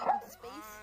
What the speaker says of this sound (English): Here's a dog bark.